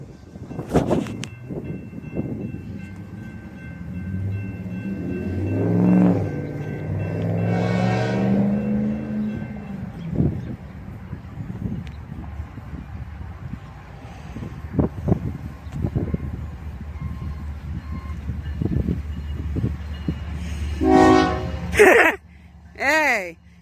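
A BNSF intermodal freight train rumbles past a road crossing, its low roar swelling and fading over about twenty seconds, with a brief horn blast near the middle and people's voices breaking in at the end.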